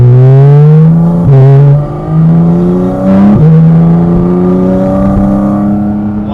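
A Porsche Cayman GT4 RS, mid-engined with a PDK gearbox, accelerates hard with a loud, close engine howl that climbs in pitch, broken by quick gear shifts with brief dips before the note rises again.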